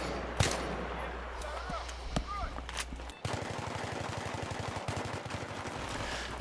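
M417 rifle fire in Battlefield 3, with scattered single shots early, then a steady rapid string of close, sharp reports over background battle noise.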